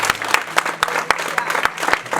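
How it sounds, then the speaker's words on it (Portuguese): Congregation at a family church service claps together in a strong, even rhythm, loud and close, with a low hum beneath the beats. "Dá uma salva de palmas"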